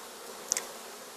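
Honey bees on a brood frame full of eggs and larvae give a brief, faint buzz over quiet background hum.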